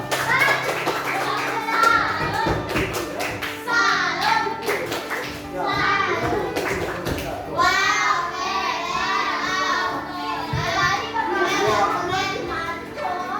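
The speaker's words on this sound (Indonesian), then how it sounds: "Oke, tepuk tangan untuk kita semuanya." A group of people claps hands together in applause during a teacher training session, a dense, sustained patter of claps mixed with children's and adult voices talking and calling out throughout.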